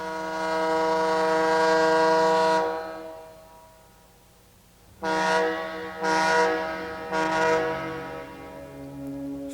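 A lighthouse foghorn on a foggy strait sounds one long, loud, droning blast, then after a short pause several shorter, slightly uneven blasts follow, with no voices.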